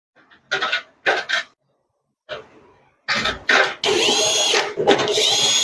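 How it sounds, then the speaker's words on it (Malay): A power screwdriver whirs in short bursts while screws are fastened into a rice cooker casing, with several brief runs and then a longer sustained spin near the end. "Saya pasang tiga sahaja skru"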